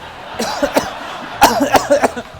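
Several harsh, throaty coughs in two close bursts, fairly near and loud, with short pauses between them and no talking.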